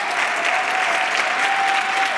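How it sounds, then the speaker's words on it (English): A conference audience applauds at the close of the event, a steady, dense wash of clapping from a large crowd that lasts throughout. "take a round of applause for all the hard work everybody put in to making this conference work"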